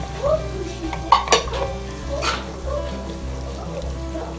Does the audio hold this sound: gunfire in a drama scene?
no